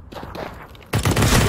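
A single loud, sharp AWP sniper rifle shot bursts out near the end of a Counter-Strike: Global Offensive game soundtrack, preceded by quieter footsteps and shuffling.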